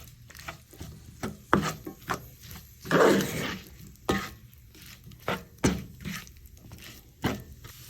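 Flour being stirred into onions and mushrooms in an oiled pan, with scraping and clattering strokes of a utensil against the pan in an irregular rhythm, close and moderately loud, with no talking.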